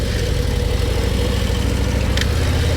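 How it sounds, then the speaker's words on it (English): A 2024 Harley-Davidson Road Glide motorcycle engine runs steadily and loudly at close range, a continuous low rumble with no talking. "Engine really smooth."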